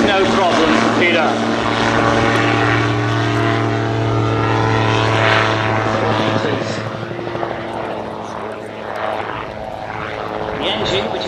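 A gyrocopter with a 100 horsepower Rotax engine flies at an air show, a steady, droning aircraft engine with a propeller buzz, loud and continuous throughout, with a narrator talking over it.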